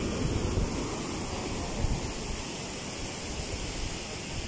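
Heavy post-typhoon waves from Typhoon Egay rolling onto a seaside village shore, an unbroken loud wash of surf and gusting wind with small swells in intensity and no speech.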